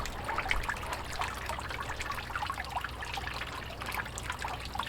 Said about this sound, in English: turn the water down a little bit more so I don't wash it back out